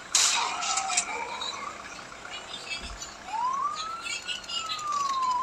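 A police car siren wails in a Miami-style driving video game, with GTA V–like action. Rising and falling electronic sweeps sound at moderate distance over a background rumble.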